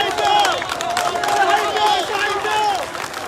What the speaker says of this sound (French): ou les pompiers qui sont en train de les applaudir